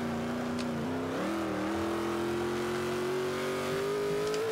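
A 2012 Dodge Challenger in Forza 5 pulling hard through the gears, a steady engine tone that dips at each shift and climbs again, continuous and fairly quiet, with no voices.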